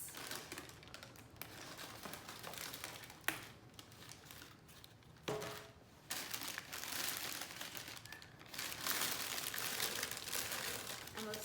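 Tissue paper stuck inside the box of a pair of Aleali May x Air Jordan 1 Zoom CMFT SP sneakers crinkles and rustles close by in soft, uneven bursts, with faint talk now and then.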